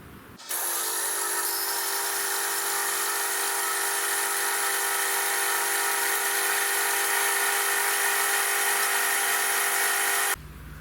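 A power tool cuts and drills parts for the Z-axis of a home-built CNC router, giving a continuous high-pitched whine that lasts about ten seconds and stops abruptly. It sounds steady and close, with no voices.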